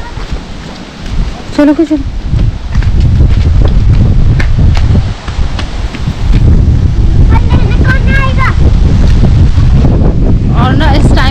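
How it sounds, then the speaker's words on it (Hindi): Strong, fierce wind buffeting the microphone outdoors in a village, a loud, nearly constant rumbling roar that swallows everything, while someone speaks briefly in between gusts. "हवा चल रही है इतनी भयंकर वाली कि अगर मैं बोल भी रही हूँ शायद मेरी आवाज़ भी क्लियर नहीं आ रही होगी"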